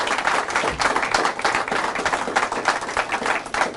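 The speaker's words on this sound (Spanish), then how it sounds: "Fuertes aplausos a Jesús." A congregation claps at a church service, a short burst of close, lively applause with uneven individual hand claps standing out for a few seconds.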